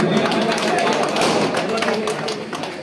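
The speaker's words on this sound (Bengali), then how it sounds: "একবার জোরে হাততালি।" Crowd clapping at a Mohammedan Sporting fan club celebration in a village, a dense, steady burst of applause with murmuring voices mixed in, close and fairly loud throughout.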